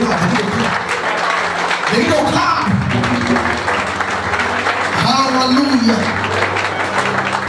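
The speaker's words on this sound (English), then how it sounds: "Clap hands of your Master Jesus." Church congregation clapping hands during a Sunday thanksgiving service, a steady mass of applause under a voice speaking over a microphone.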